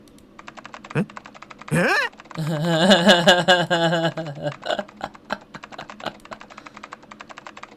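Fast keyboard typing from the video game Zero Escape: 9 Hours, 9 Persons, 9 Doors, a rapid, even patter of key clicks running throughout, with game sound effects and a brief spoken voice cutting in.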